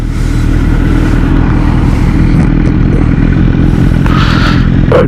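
A Kawasaki Z900 motorcycle rides through Florida countryside with a loud, steady engine drone and wind roar, plus a brief rattle near the end.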